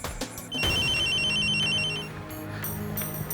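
A telephone rings with a bright, steady electronic tone starting just after half a second and holding for over a second, set against a busy drama-scene background of music and room noise, with no voices.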